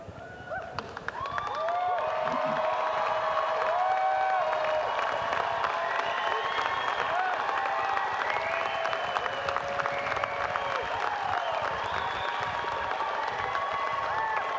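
A large crowd at a winter commencement ceremony applauds graduates. Sustained, dense clapping mixes with cheering and scattered whistles and holds at an even, loud level for about fifteen seconds.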